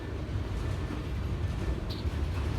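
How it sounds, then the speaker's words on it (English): A long freight train rolls past a crossing on Lake Avenue in Blasdell, New York, with a steady low rumble and wheel clatter. The noise holds constant and close throughout, with a brief squeal near the end. "Wow, this train is really long."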